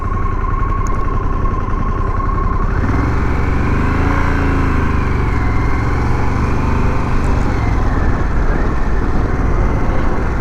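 A Harley-Davidson Pan America motorcycle in off-road mode rides on dirt, its engine droning loud and close, rising in pitch as it pulls away through the gears.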